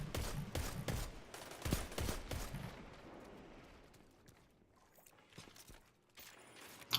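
Shotgun blasts in a fast-paced online shooter video game, a quick burst of several sharp shots close by in the opening seconds, then quieter scattered gunfire and game sounds fading further off.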